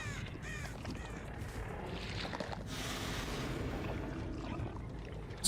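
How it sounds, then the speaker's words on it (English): Crows caw in Dead by Daylight, a few hoarse calls early on over a steady bed of wind-like ambient game noise, with no talking. "These crows are really fucking helpful, by the way."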